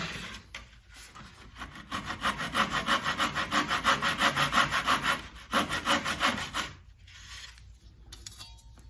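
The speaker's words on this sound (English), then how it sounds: "Give that a light sand." Light sanding of a wooden plant stand, with rhythmic back-and-forth rubbing strokes close up, a steady run of quick passes, a short pause, a few more strokes, then quiet.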